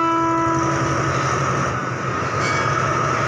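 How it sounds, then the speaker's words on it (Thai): An express train pulls out of a station with a loud, continuous rumble and a sustained horn tone at the start, the noise steady and close throughout. "รถไฟออกก่อนเวลาเสมอครับนะ"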